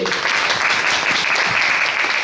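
Fans at a first Korean fan meeting for Yuki Ito give a burst of steady applause, many hands clapping loudly and evenly for a couple of seconds.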